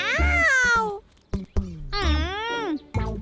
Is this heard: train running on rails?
no